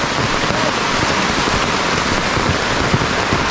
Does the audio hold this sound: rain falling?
yes